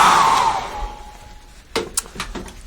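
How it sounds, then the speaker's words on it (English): Hairdryer blowing on a fresh acrylic floral painting, a loud steady whir that fades out after a second or so, followed by a few soft clicks and knocks. "I'm going to use a hairdryer on this"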